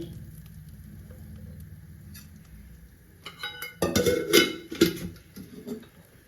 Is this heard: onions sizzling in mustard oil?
yes